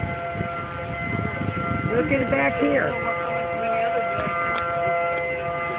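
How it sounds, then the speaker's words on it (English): Outdoor civil defense tornado sirens wail steadily in the distance during a tornado in Michigan, a sustained rising and falling tone beneath people talking nearby. "There goes the sirens"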